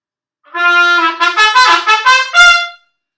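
A loud, sustained car horn tone that rises after a steady start and then pulses in several short bursts before cutting off, with no talking.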